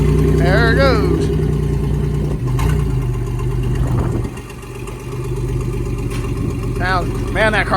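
A mid-1990s Oldsmobile Cutlass Ciera demolition derby car's engine idles loudly and steadily at close range, with a brief rise in revs partway through, while people talk nearby.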